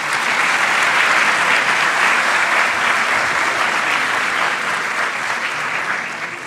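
A large congress audience applauds a dance troupe's performance, loud dense clapping from many people that holds steady throughout and tapers slightly at the end.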